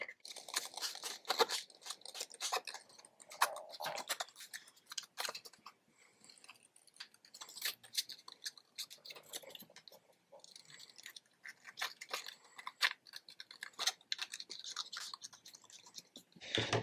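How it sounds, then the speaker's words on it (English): Scissors snip and rustle through paper in quick irregular bursts, close up and quiet, with short pauses between the cutting strokes. "I'm going to go around it and just do my scissors back and forth."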